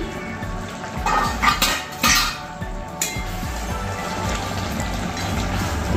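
A metal lid clinks and rattles as it is lifted off a pot of simmering curry left to cook covered on the stove. A few close, bright metallic clinks are followed by a steady low background bubbling hiss.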